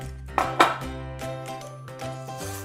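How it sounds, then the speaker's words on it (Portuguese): Flour and cocoa powder being stirred into chocolate cake batter in a bowl, with two sharp utensil clinks against the bowl early on over a low steady background hum, no voices. "E vou misturando devagarinho, primeiro nas laterais, depois no centro do bowl"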